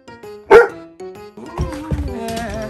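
A ten-month-old female Great Pyrenees puppy barks in several loud, close, uneven yips and woofs, a sharp burst near the start, then a rapid string of barks toward the end.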